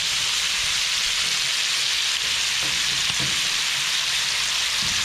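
A seafood boil of garlic, corn, shrimp and crab legs being stirred, giving a steady loud sizzling hiss with soft scraping and shifting under it, no voices.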